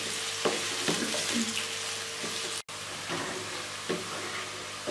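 Onions fry in a pan toward light brown, giving a continuous soft sizzle with a few stirring scrapes and brief clatters. There is one short dropout midway and no talking.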